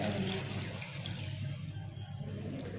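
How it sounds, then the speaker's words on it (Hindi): Water pouring into a cooking pot, about two glasses for boiling spinach, a continuous near rushing splash that stays steady throughout. "2 गिलास पानी ऐड कर देंगे।"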